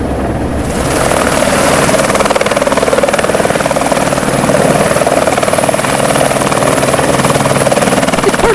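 Helicopter flying over the thick ice of the Juneau ice field near the Mendenhall Glacier, a steady loud rotor thrum and engine roar that holds without pause throughout, with no talking.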